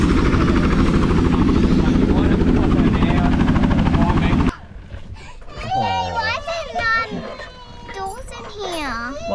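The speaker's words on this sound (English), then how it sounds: "There's no doors on the helicopter." A doorless helicopter roars in flight with a loud, throbbing rotor and engine drone, then the sound cuts off abruptly and children's voices talk and chatter over a quieter background.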